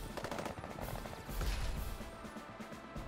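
Infantry opening fire on a battle copter in the turn-based strategy game Advance Wars Re-Boot Camp, a short rattle of rapid machine-gun shots with a crashing impact, fairly quiet, no speech.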